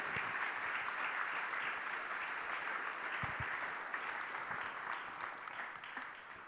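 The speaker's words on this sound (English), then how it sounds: "A round of applause for these terrific panelists." Sustained applause from an audience for panelists after an evening discussion on American foreign policy toward Ukraine, Russia and NATO, a dense, steady wash of clapping heard from a distance, fading slightly at the end.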